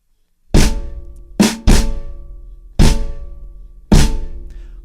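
Drum kit beats out a syncopated dotted-eighth and sixteenth pattern: five sharp, close crashes and hits with ringing decays, unevenly spaced after a brief silence, no voices.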